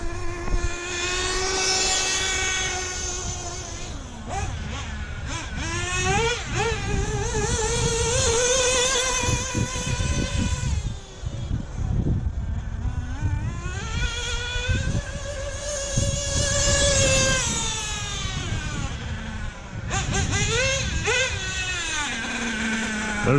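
A Hobao VS2 nitro RC car engine runs close and loud and steady, a buzzing whine with strong harmonics that rises and falls in pitch as the throttle is blipped and eased, never dropping away over more than twenty seconds.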